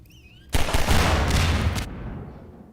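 Burst of video game gunfire, a sudden loud onset of dense overlapping shots and booms lasting about a second and a half before tapering off.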